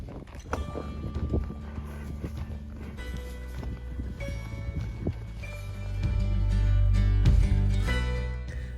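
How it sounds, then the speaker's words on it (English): Horses walking on a mountain trail during a camping trip, hooves clip-clopping in an uneven rhythm of scattered hits over a loud, rumbling outdoor background. "Then I got to ride Halo on the way down."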